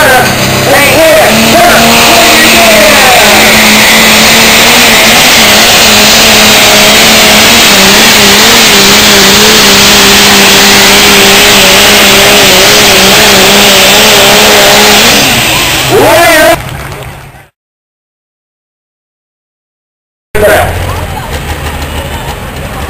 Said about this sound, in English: That's John Deere sheet metal, the John Deere motor, John Deere Fury transmission, and a John Deere rear end.